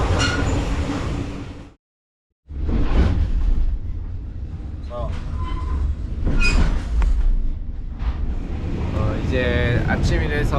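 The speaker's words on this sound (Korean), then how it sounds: "이 기차가 꽤 많이 흔들리고 또 소리도 커서 지금 사실 녹음이 제대로 되고 있는지도 모르겠습니다." A TAZARA passenger train crossing Tanzania rumbles, rattles and shakes loudly from inside the carriage, with a brief gap in the noise and occasional metallic squeals over the steady roar, with a voice speaking partly beneath the din.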